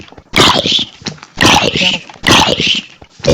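A dog barks and snarls in a horror video game, three loud bursts of aggressive barking and growling in quick succession, close and harsh, with short gaps between them.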